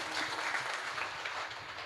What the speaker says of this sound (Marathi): एकदा दोघांसाठी जोरदार टाळ्या वाजवा.